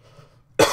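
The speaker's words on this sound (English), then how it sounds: "I have a weird cough today." A single sharp cough bursts out abruptly at the end after a brief quiet stretch, close to the microphone, from a person recording gameplay commentary.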